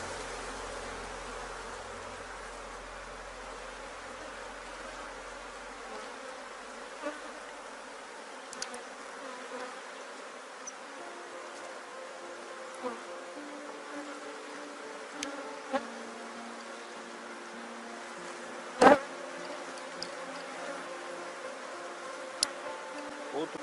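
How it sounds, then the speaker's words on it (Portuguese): Honeybees from a swarm buzz in a dense, continuous hum during a hive inspection, close and steady throughout, with a few faint clicks and knocks of handling. "O enxame que tá muito bom, tá bonito."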